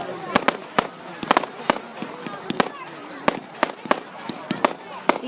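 Bonfire night fireworks crackle and bang in quick irregular bursts, sharp distant pops scattered over a few seconds, with faint voices in the background.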